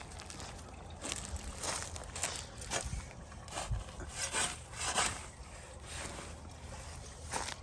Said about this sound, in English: I'm gonna just scoop it up and put it in these.